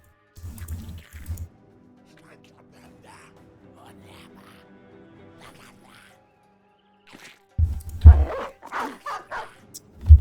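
Dog barks from the medieval mercenary video game Battle Brothers, a pair of short barks at the start and a louder cluster near the end, with quieter game sounds and faint talk in between.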